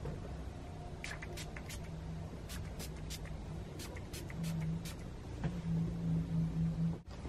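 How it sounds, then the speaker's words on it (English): Tatcha Luminous Dewy Skin Mist is spritzed onto a face in a string of short, crisp hissing puffs, each quick and close, set against faint room rumble, with no talking. "This is the Tatcha Luminous Dewy Skin Mist Spray."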